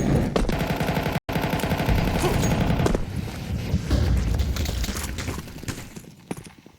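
In Counter-Strike 2, FAMAS and AK rifle fire rattles in rapid, dense automatic bursts during a competitive match. The firing stays loud for several seconds, then thins to scattered shots.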